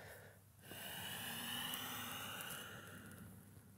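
A slow, steady breath out during a yoga forward fold, heard as a soft, airy exhale that swells and fades over a few seconds, close and quiet with no talk.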